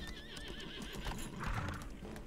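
Horse in a video game whinnying with a wavering high neigh, followed by clip-clopping hooves over a steady ambient game background, close and clear with no talk.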